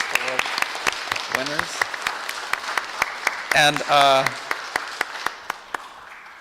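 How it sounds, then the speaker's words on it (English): Scattered applause for past award winners at a Los Angeles Department of Public Works meeting, sparse individual claps under a speaker's voice, fading toward the end. "so round of applause for"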